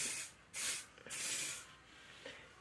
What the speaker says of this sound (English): So I just spray my edges with that.